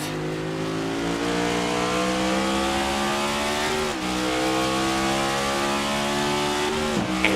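Race cars roaring through laps in a racing video game during a 40-lap cup series event, steady loud engine drone with harmonic whine, shifting pitch as cars pass and dip near four and seven seconds.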